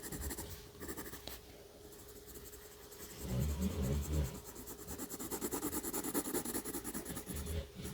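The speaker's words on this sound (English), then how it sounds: "Don't forget to turn your pencil once in a while as you're coloring." Quiet scratchy strokes of a pencil coloring on paper, soft rhythmic rubbing close up with a low steady hum beneath and a few fuller scraping passes midway.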